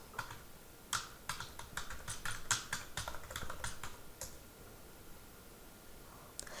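Typing a search query on a computer keyboard, a quick run of close, crisp key clicks for a few seconds that then thins to scattered taps with pauses.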